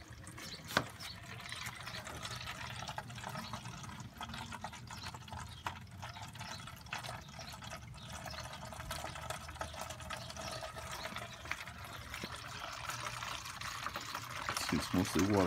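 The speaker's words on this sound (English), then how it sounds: "And now we're just gonna start to empty it into my bucket." Fuel and water draining from a tank into a bucket while making ethanol-free fuel, a continuous faint trickling and pouring stream that swells slightly toward the end, with quiet talk around it.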